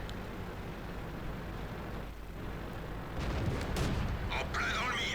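Tank cannon shots in World of Tanks ring out as sharp booming blasts over a steady rumbling engine bed, with a louder burst near the end and a voice talking over it.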